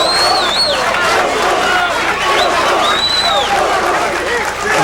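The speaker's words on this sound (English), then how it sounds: "You hear the crowd chanting boom boom." Crowd at a boxing match between Alexis Arguello and Ray Mancini chants rhythmically, a dense roar of many voices filling the arena with shouted calls rising over steady hubbub, with a commentator talking over it.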